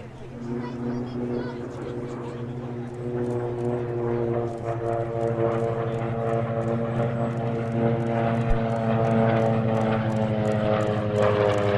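A World War II SB2C Helldiver dive bomber flies at a 2012 airshow at Andrews AFB. Its piston engine and propeller give a loud, steady droning hum that grows slightly, with a commentator talking over it.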